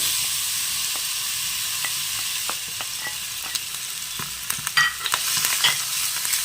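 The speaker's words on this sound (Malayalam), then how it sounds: "നെയ്യിൽ ഈ പഴം ഒന്ന് വഴറ്റിയെടുക്കാം" Chopped ripe plantain sautéing in ghee makes a soft, steady sizzle, punctuated by many sharp spoon clicks and scrapes as it is stirred, growing busier toward the end, with no voices.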